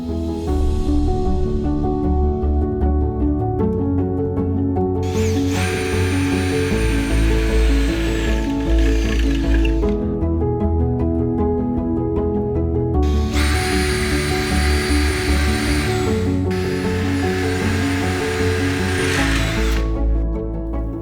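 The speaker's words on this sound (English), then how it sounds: "Continue to mark and pre-drill all ring beams in a similar manner." Power drill pre-drilling holes in ring beams for an Atlas installation, two long steady whirring bursts over a continuous rhythmic mechanical hum, loud and close with no talk.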